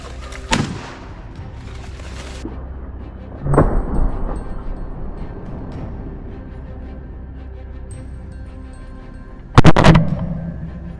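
Three sharp gunshots ring out at wild boar in a forest, one early, one a few seconds later, and a loud one near the end, over a steady outdoor background hum.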